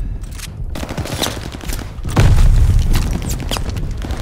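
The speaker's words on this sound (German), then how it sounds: "Feindliche Granate." Enemy grenade exploding in Call of Duty: Vanguard, a heavy boom swelling after two seconds amid bursts of gunfire and rumbling battle noise, loud and close.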